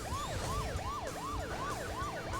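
A police car siren in the racing game Burnout 2 wails in a fast, repeating yelp cycle, loud and close, over the steady roar of the engine.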